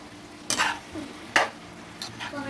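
Garlic and onion being stirred and turned in a pan for a prawn curry, giving three separate bursts of scraping and sizzling close up, with no voices over them.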